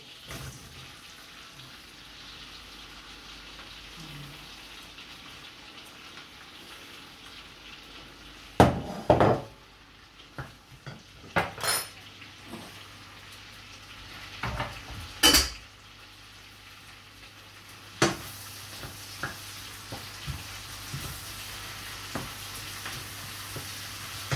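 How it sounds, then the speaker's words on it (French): Onions go into melted butter in a pan for an onion tart, giving a soft continuous sizzle broken by several louder clatters of utensils and pan handling, with a faint low hum in the background. "Votre beurre, une fois bien fondu, vous mettez vos oignons."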